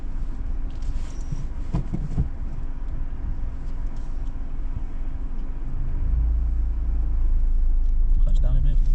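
A manual car's engine rumbles steadily through a child's driving lesson on private land, growing louder toward the end as revs rise, with voices talking over it.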